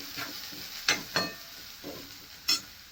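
Tomatoes go into a pan of spiced masala for a pumpkin seed curry, with a soft steady sizzle and a few sharp spatters and stirring scrapes close by.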